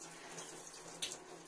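Water runs from a newly installed tap during bathroom cleaning, a soft continuous splashing stream, fairly faint and close, with a small knock near the end.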